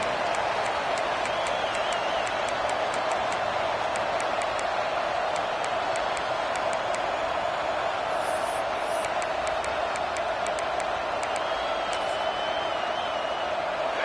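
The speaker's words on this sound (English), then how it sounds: "This crowd ready to make its presence known." Large football stadium crowd roaring continuously, a dense steady wash of cheering with scattered whoops and whistles, loud and unbroken throughout.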